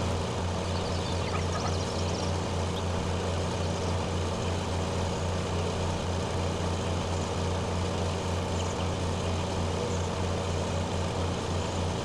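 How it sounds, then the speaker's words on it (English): Ducks quacking in Farming Simulator 19 on a farm map, scattered quacks over a steady, loud engine-like drone of farm machinery that runs unbroken throughout. "Get out of here, birds."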